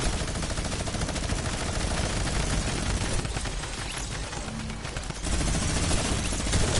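Minigun in an Arsenal-style first-person shooter game, firing as a dense, rapid, unbroken stream of shots that dips briefly before resuming at full volume.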